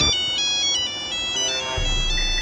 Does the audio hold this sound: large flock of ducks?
no